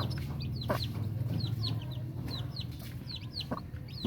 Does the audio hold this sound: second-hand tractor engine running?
no